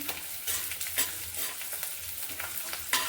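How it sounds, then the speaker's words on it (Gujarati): Edible gum fries and crackles in hot ghee while being stirred in a pan for sukhdi, a steady close sizzle with scraping stir strokes and a few louder pops. "ગુંદર શેકાઈ જાય બરાબર શેકી લેવાનું છે, કાચું ન રહે તેનું ધ્યાન રાખવાનું છે।"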